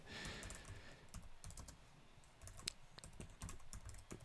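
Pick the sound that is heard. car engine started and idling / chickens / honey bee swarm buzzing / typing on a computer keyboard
typing on a computer keyboard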